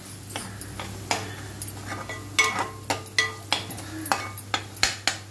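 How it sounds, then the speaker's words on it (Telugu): Spices fry in a hot pan while a spoon stirs them, giving a steady soft sizzle under repeated sharp scrapes and clinks of metal against the pan in an irregular rhythm, close and fairly quiet. "కొంచెం పచ్చివాసన పోయేంత వరకు ఫ్రై చేసుకుందాము."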